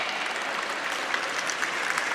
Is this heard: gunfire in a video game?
no